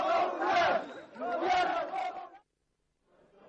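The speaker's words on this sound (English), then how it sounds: "the crowd went off into the night, carrying their self-elected governor on their shoulders." A crowd in Bolivia at night carries its self-elected governor on their shoulders, raising two loud, surging bursts of massed shouting and chanting that break off into silence before faint voices return.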